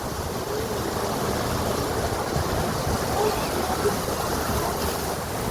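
Heavy, wind-driven rain pours off a tin roof, making an unbroken, roaring wash of water noise close by that holds steady with only slight surges.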